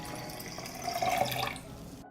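Water running and trickling steadily as it is poured in to dilute homemade tea fertilizer for garden seeds, swelling slightly louder midway, a soft close liquid splashing with no talk.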